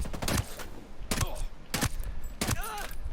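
Several sharp suppressed M1911 .45 pistol shots in Ghost Recon Breakpoint arrive in quick, evenly spaced pops, close and clear, with a few mechanical clicks between them.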